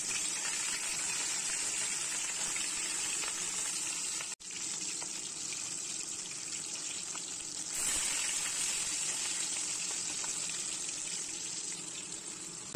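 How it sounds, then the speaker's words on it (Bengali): Fish rubbed with salt and turmeric frying in hot oil, a dense, continuous hiss of sizzling that holds steady for the whole stretch, with one momentary dropout and no speech. "তো মাছটা ভেজে নিয়ে চলো।"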